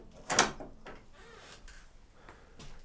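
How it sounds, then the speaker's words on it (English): An old wooden door in an abandoned 18th-century mansion is opened with one sharp knock-like clunk near the start, then soft creaks and scrapes trailing off, close by and fairly quiet. "Cool design of a door, right? Could open it up from the behind here like that."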